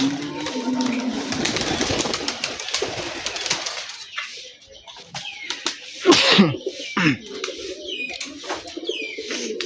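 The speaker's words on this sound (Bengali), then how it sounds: "এই যে আমার মোজা নরের ডাক" Pigeons cooing in a loft in the morning after release, the murmuring calls of a male mixed with several birds, a few louder sharp bursts and wing flaps near the end, no talk.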